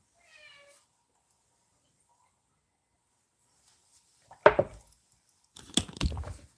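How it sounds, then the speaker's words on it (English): A house cat gives one short, faint meow in a quiet kitchen. Sharp clattering and knocking noises follow a few seconds later. "My poor kitty wants all that attention."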